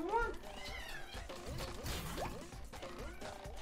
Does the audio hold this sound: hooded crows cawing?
no